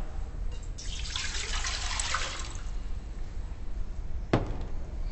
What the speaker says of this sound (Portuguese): Com muito cuidado, coloque a água para ferver em uma panela.